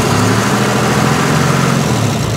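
A car engine with a suspected internally failed exhaust box runs loud and close in a workshop, a rough, steady, buzzing roar held at raised revs throughout.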